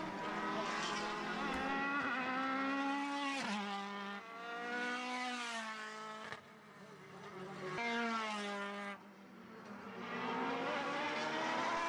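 Formula BOSS race cars at a 2021 Ireland championship round, engines revving hard with rising and falling pitch as they accelerate and brake into a corner, loud and continuous with no talk.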